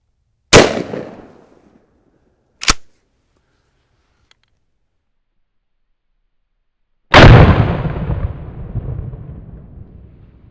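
A .410 shotgun loaded with 000 buckshot fires into a ballistic gel block from 5 yards outdoors, giving one loud sharp blast, a smaller pop two seconds later, then a long booming report with decaying rumble.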